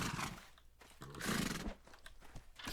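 A horse whinnies loudly in the Mount & Blade Warband video game, a shrill neigh over clattering hooves and battle noise, with no talk.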